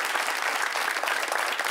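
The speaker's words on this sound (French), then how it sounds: "Applaudissements pour vous-même, cher public." Steady applause from a talk-show studio audience in Bobo, Burkina Faso, dense clapping throughout with no pauses.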